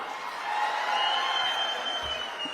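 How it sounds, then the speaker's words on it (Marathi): Audience at a political speech for the Ahilyadevi Holkar birth anniversary gives a steady wash of applause and crowd noise, swelling slightly in the middle and continuing throughout at moderate distance. "त्यांच्यासाठी जोरदार टाळ्या वाजवा"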